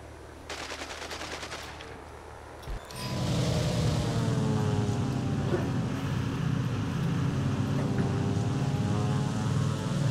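A propeller bomber's engine drones steadily in the War Thunder video game, a loud buzzing hum that swells after a short burst of machine-gun fire at the start, with faint talk in the background.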